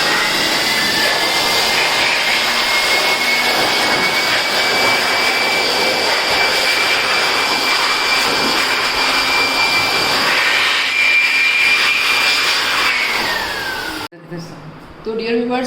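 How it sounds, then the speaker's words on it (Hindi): Air blower blasting dust out of a Suzuki motorcycle engine, a loud, continuous roaring whoosh with a steady whine that runs for over ten seconds, then cuts off abruptly, leaving a quieter end. "तो मैं फिर ब्लोअर का इस्तेमाल कर लेता हूँ।"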